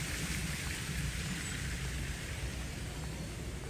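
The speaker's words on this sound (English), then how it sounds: "Rain everywhere over here." Rain falls steadily at Magic Kingdom, a dense, even hiss of downpour with no breaks and no voices.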